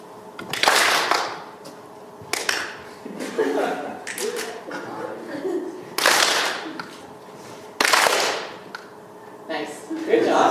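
An audience in a lecture hall on the prefrontal cortex claps in sudden loud bursts on a go signal, several separate rounds of group clapping a second or two apart, with a voice talking between them.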